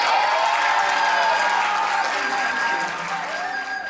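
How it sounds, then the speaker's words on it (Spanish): An audience at a 2013 folk festival in Talagante, Chile, applauds in a dense, steady burst that eases slightly toward the end while someone speaks over it. "Un fuerte aplauso."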